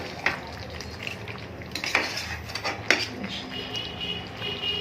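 A spoon stirs potato dum in a metal pan, scraping and clinking against the sides in several distinct strikes over a soft sizzle, close and clear.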